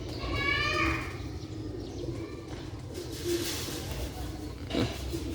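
Pigeons cooing and chirping softly at a nest while feeding their chicks, the calls rising and falling across a low steady background hum, with a short sharp flutter near the end.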